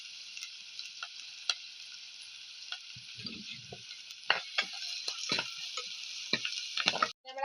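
Curry leaves sizzle and crackle in hot oil in a Kerala home kitchen, with a steady frying hiss and sharp sputtering pops that grow more frequent toward the end.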